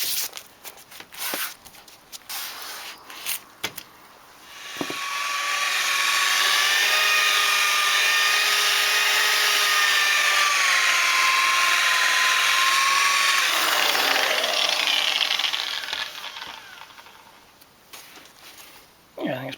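A rotary polisher works the paintwork of a Toyota Carina E barn find, starting with a thump and running as a steady loud whine for about ten seconds, its pitch sagging slightly under load before it spins down.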